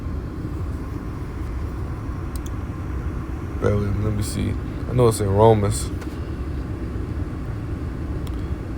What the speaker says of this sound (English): Excuse the background noise. I'm sitting in the car.